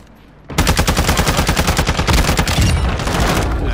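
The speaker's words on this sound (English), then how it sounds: "Somebody's shooting someone." Gunfire as someone shoots, a sudden loud, sustained burst of rapid automatic fire, dozens of closely spaced rounds hammering without pause after a brief quiet start, near and dominant with no speech.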